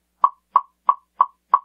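A wooden block is struck with a soft blue rubber percussion mallet, giving five even, dull, rounded knocks at a steady moderate pace, close and alone.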